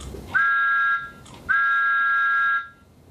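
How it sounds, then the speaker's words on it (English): Two sustained, steady whistle tones, the first short and the second longer, sound clearly with a brief gap between them, from a DCC Thomas & Friends model train locomotive. "Also, DCC Thomas has a train whistle."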